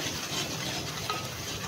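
Ground masala paste frying in oil in a home kitchen pan, a soft continuous sizzle with occasional light stirring scrapes, fairly quiet and without talk.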